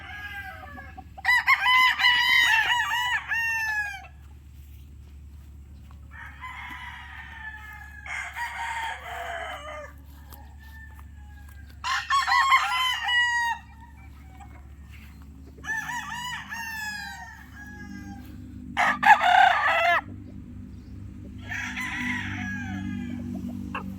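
A young late-born sweater gamecock stag with a straight comb crows repeatedly in separate bursts, about six crows with soft clucking between, close and clear over a quiet background hum.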